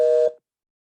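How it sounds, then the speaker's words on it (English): A phone dialing 911 from a campus safety app gives one short, loud electronic tone that cuts off abruptly into silence. "my phone goes right to 911"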